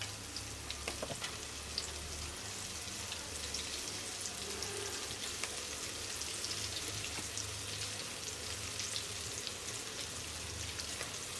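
Onions frying in oil in a pan give a steady, dense sizzle with fine crackle throughout, moderately close, with a low background hum and no talking.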